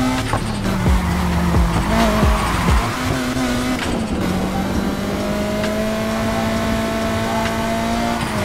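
A racing car engine in the video game Need for Speed Heat roars and shifts pitch during a police chase while tires squeal and skid in sharp bursts, loud and continuous.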